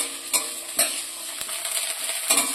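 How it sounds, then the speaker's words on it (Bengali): Chopped onions being stirred and fried in a pan for an egg dish, with a steady sizzle and a few sharper scraping strokes of the spoon against the pan at irregular intervals. "এবার ভালো করে নাড়াচাড়া করে একটু ভেজে নেব।"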